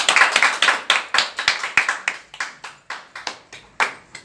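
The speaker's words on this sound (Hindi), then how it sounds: "चलिए ताली बजा दीजिए मैम।" An audience claps for a housewife and mother of two at a Mrs. India 2021 meeting, with brisk, close individual hand claps in a steady uneven rhythm that fades toward the end.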